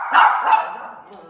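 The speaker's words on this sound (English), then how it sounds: "There goes my dog." A single dog barks once or twice, fairly close, in a short burst over a quiet indoor background, fading quickly after the bark.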